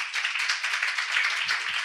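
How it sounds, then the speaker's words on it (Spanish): A Spanish-speaking audience at a talk or presentation claps to welcome two speakers to the stage, a brief burst of dense clapping heard close, with a couple of low thuds near the end. "Un aplauso, por favor."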